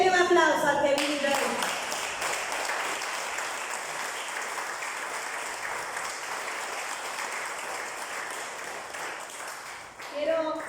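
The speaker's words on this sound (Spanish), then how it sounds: "Denle un aplauso al que vive." Congregation applause in a church service, starting after a brief spoken line and swelling into sustained clapping across the room that carries evenly for several seconds before fading, with a voice returning at the end.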